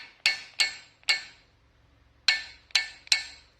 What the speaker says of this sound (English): the simple way to get the bearings loose is simply tap them with a hammer